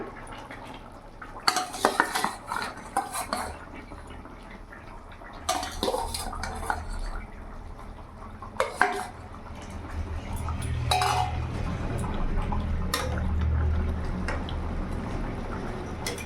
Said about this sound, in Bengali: এবার ভেজে রাখা মাছগুলো আমি দিয়ে দেবো